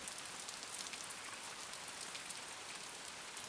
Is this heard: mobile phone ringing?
no